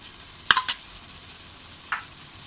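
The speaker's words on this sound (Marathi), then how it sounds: "तेल सुटेपर्यंत आपल्याला हे परतायचं आहे." A ginger, garlic, coriander and green chili paste stirred and sautéed in hot oil for chicken dum biryani, giving a faint steady sizzle broken by a few sharp spoon-against-pan scrapes and clinks.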